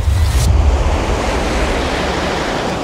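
Loud rushing Pacific Ocean waves off the coast of Colombia with heavy wind buffeting the microphone, a steady wash of surf noise with no voices.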